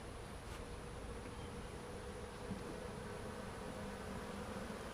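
Dense, steady buzzing of a small honeybee swarm fills the clip, a continuous low drone at moderate level with no voices.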